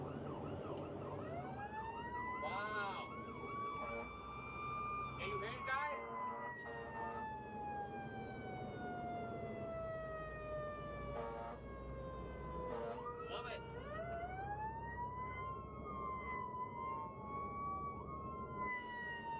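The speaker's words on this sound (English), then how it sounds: "This will change the sirens" A loud emergency siren wails in long rising and falling sweeps, switching to faster yelping patterns partway through, over a low vehicle rumble.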